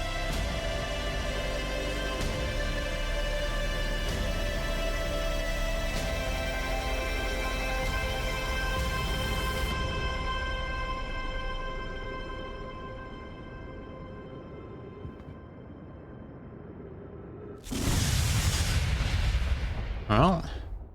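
A deep, sustained explosion rumbles in the space exploration video game Outer Wilds, roaring loud and slowly fading over many seconds. A sharp burst follows near the end.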